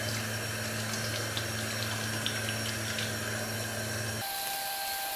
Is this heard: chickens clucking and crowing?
no